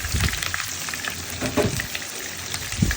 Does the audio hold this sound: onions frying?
yes